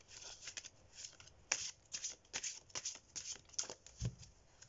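Large oracle cards being shuffled by hand, a run of quick papery riffles and slaps in steady bursts, close and fairly soft with no talk.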